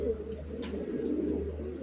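A domestic pigeon coos softly and close by, a low steady murmuring coo over a constant background hum, with no talking.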